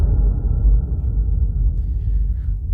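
Low-end trailer hit made for the opening or close of a music track: a deep, sustained sub-bass rumble that stays loud and steady throughout, with no voices.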